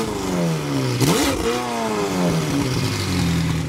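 McLaren 720S widebody supercar with its engine revving up and settling back, a close, loud, sustained engine note with a sharp rise in pitch midway and no talking.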